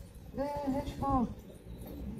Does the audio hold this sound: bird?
yes